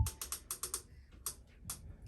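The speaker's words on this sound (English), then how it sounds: "And now the dryer started up, hon. Let's just, let's hear the music." Maytag clothes dryer with a worn idler pulley running, giving a rhythmic series of sharp, close squeaks at a steady quick beat, each chirp repeating evenly and then becoming sparser, with no talking.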